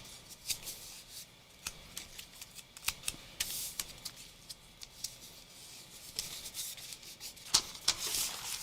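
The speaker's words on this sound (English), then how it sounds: "put some painter's tape just to hold it" Painter's tape being pulled and pressed down to hold an art design in place, a series of crisp tearing, rubbing and smoothing strokes, close and moderately quiet, with no talking.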